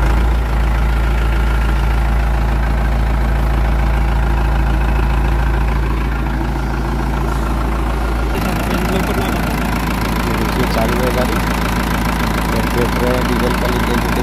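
An Escorts TRX15 4x4 Farana 15-ton pick-and-carry crane, new 2024 model, idles with a steady low diesel rumble throughout, running continuously with people talking nearby over the engine.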